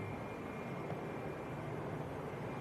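KLM airliner passing over Manchester Airport, a continuous broad jet roar with low rumble, steady and moderately distant across the short stretch, no voices.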